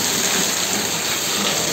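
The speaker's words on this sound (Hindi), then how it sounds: "काफी तेज बारिश हो रही है" Heavy monsoon-style rain pours down steadily in India, a close, loud and even hiss of rainfall with no breaks and no voices over it.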